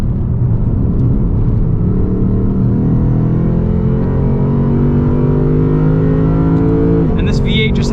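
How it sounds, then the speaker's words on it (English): A 2020 Lexus RC-F V8 revving hard on a race track, rising harmonic engine pitch climbing steadily through the gears, loud and close from the cabin, with someone talking over it. "And this V8 just has the best soundtrack."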